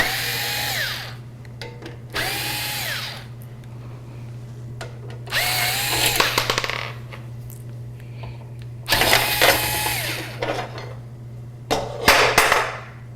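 Metal thumb screws being backed out of a PC case bracket, with short bursts of whirring, ratcheting tool-like noise in several separate spells, a steady low hum underneath and no talking.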